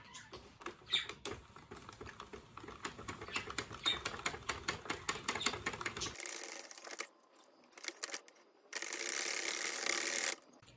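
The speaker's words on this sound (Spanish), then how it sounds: "Voy a dar también unas 8 vueltas con el hilo de desecho." Sentro knitting machine cranked through rounds of waste yarn, a close, rapid ratcheting clatter of ticking gears that continues for several seconds, then gives way to brief bursts of hiss and rustle.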